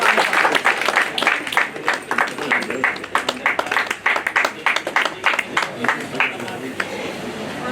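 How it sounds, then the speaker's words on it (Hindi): Audience at a welcome ceremony for a visiting state youth minister in Mussoorie claps in irregular bursts, sharp overlapping hand claps close by with crowd voices and talk mixed underneath throughout. "जोरदार तालियां बजती रहनी चाहिए"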